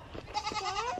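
Goats bleat at morning feeding time, a short wavering cry rising out of faint barnyard background noise, close and moderately loud.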